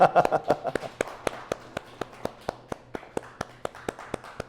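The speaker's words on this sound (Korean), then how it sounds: "우리 제이를 위해서도 박수하겠습니다." A church congregation claps for a member in a steady, quick rhythm of sharp, evenly spaced claps. A voice is briefly heard at the start before the clapping carries on alone.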